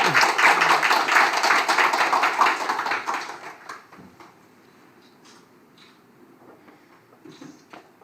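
Applause from a gathered audience greets a new board member at a UN Peace Korea foundation event, a dense burst of clapping for about three seconds that then thins to scattered claps and trails off into quiet.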